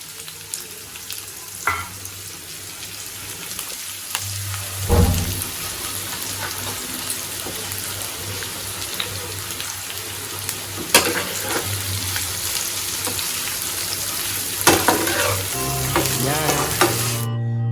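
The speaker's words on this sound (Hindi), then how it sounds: "तेल अब गरम हो चुका है, इसमें हम लोग प्याज डालेंगे।" Onions frying in hot oil in a home kitchen for a mutter paneer bhurji, a steady close sizzle with occasional stirring scrapes and clinks, no talking.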